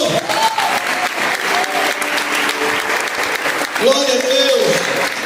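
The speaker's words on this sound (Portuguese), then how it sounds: "Se eu fosse você, eu dava um aplauso a Jesus por isso" A church congregation applauds Jesus, with dense, steady clapping throughout under musical tones and a voice speaking over it.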